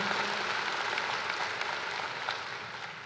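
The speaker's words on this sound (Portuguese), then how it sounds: "pode aplaudir a Jesus?" A church congregation claps together in a soft, distant wash of applause that holds steady and fades slightly toward the end, with no voices over it.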